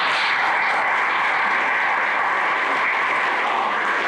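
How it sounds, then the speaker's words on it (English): Dense, steady applause from an audience at a Windsor County Republican gathering in Vermont, a continuous wash of many hands clapping at even volume for the whole stretch, with no pauses or voices standing out. "let's give a round of applause to Roy and Kelly for this amazing."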